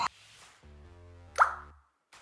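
Short tonal chime from a phone announcing a text message sent by a Hikvision AX PRO GSM alarm system after a PIR sensor test, heard as a steady melodic tone followed by a brighter ping, fairly close and clear.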